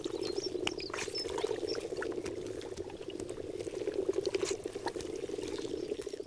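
Hundreds of frogs clustered in a flat, sheltered corner of a mountain lake in the Tatra Mountains, a dense continuous croaking chorus with bubbling, purring calls layered over each other, steady and moderately near throughout.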